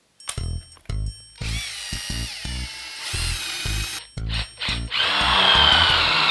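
Power drill fitted with a countersinking bit boring into wood while building a cornhole board, several short whirring bursts with brief stops between, then a longer sustained run that grinds harder toward the end.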